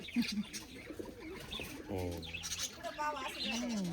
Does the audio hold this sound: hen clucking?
no